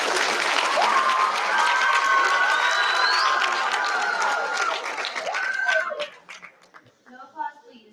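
An audience at the finals of a Texas debate competition claps and cheers loudly for about six seconds, with whistles over the clapping, then the noise dies down to a few scattered claps and murmurs.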